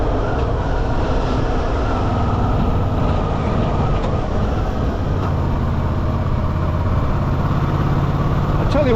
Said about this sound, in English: this engine is so sweet. I don't think I've ever ridden a bike where the engine is so smooth.